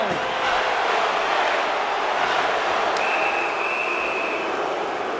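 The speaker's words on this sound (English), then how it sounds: "you can hear the crowd just jeering with their frustration" A large hockey arena crowd in NHL 25 roars and jeers steadily throughout, a dense, loud wash of voices with no pauses, and a brief whistle-like tone rising out of it partway through.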